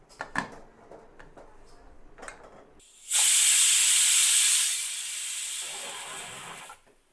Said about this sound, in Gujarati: હવે કુકરનું ઢાંકણ બંધ કરી 5 થી 7 વિસલ વગાડી લઈશું.